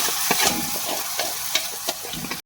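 Chili and turmeric paste thinned with water hits a hot iron wok, making a continuous loud sizzle broken by scraping stir strokes and clinks, then a sudden cut to silence at the very end.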